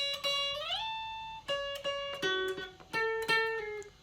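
Guitar solo from a song played on a guitar alone: clear picked notes with slides up in pitch and pull-offs, a few quick strums between phrases, moderately quiet and close.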